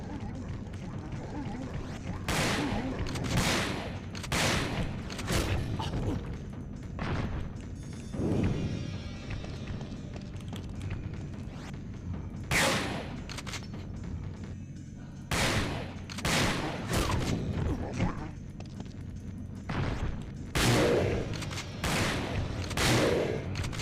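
Shotgun blasts fired in the Resident Evil Dead Aim video game, several loud sharp booms spaced irregularly over a busy backdrop of game music and effects, with a person talking between shots.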